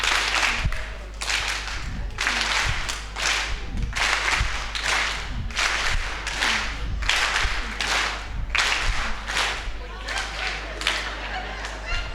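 A live choir show audience claps on cue in short bursts of one or two claps, repeated in a steady rhythm over a low hum, with a leader's voice calling between them.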